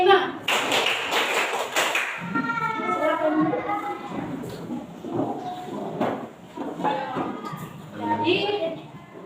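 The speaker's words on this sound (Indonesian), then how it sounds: "Mulai serempak. Tepuk 5." A group claps hands together in unison during a micro-counseling class session, a quick burst of about five sharp claps near the start, followed by a voice talking over the rest.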